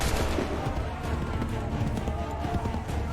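Assassin's Creed 3 battle scene with musket fire crackling among dense noise, horse hooves clattering throughout, and shouted voices, all busy and loud.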